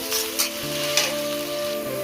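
Chopped potatoes crackle and sizzle in hot oil in a pan, a steady close hiss with a few brighter spatter bursts and a faint tonal hum underneath.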